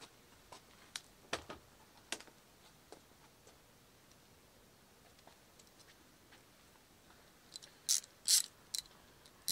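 Ratchet turning a spark plug socket on a 1994 Ford Probe GT 2.5 V6, a series of sharp metallic clicks in uneven bursts, close and crisp, with quiet gaps between, no talking.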